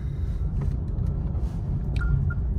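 A Renault R5 electric car pulls away on the road, giving a steady low rumble of tyres and cabin noise with a couple of faint ticks, close and unbroken, with no one talking.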